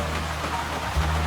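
Steady rain patters outside the Art Deco cabin of the Venice Simplon-Orient-Express, a continuous close hiss with a low rumble swelling near the end.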